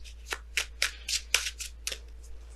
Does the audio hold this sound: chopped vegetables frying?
no